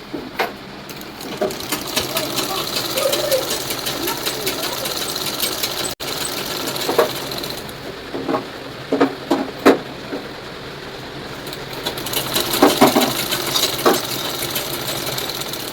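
An oiled, rust-repaired new sewing machine stitching, its fast mechanical whir running steadily with a few louder clacking bursts near the middle and end, close and alone.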